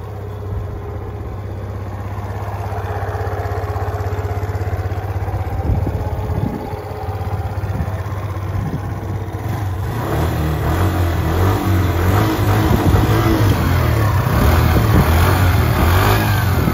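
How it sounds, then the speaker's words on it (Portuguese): A Suzuki Let's4 125cc four-stroke scooter idles with a steady low hum, then revs up partway through, the engine rising to a louder, rougher sustained roar close by. "Tem barulho de motinha 125, né?"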